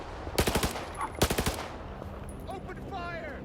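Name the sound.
gunfire in video game S.T.A.L.K.E.R. 2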